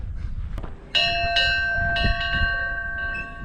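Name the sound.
locomotive bell ringing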